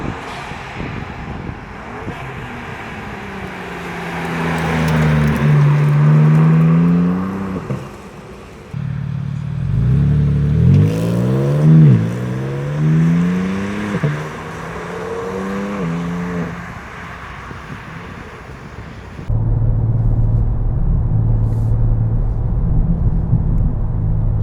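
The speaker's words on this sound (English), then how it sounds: "Akrapovic exhaust, Eventuri intake, everything has been installed, everything is fine. So we can now show you how it sounds." BMW G87 M2 fitted with an Akrapovic slip-on exhaust and Eventuri intake, its engine rumbling and revving loudly through several rising sweeps, close up, with no talking, ending on a steady deep idle.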